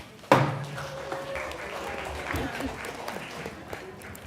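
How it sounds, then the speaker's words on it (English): A burst of applause from a town meeting audience starts abruptly at adjournment and carries on steadily as a dense wash of clapping hands. "when you all clap at the end"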